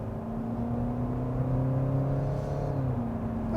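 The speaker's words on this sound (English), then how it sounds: "now let's put the car into sports and drive" Steady, smooth drone of a 2021 Genesis G80 with a 2.2-liter diesel engine pulling in sport mode, heard from inside the cabin, a low engine hum rising gently in pitch with road noise and no talking.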